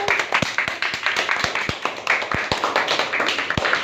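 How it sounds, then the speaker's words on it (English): Children in a classroom clap for themselves in a quick, fairly even rhythm of sharp, close claps lasting about four seconds, with faint voices underneath. "Now clap for yourself."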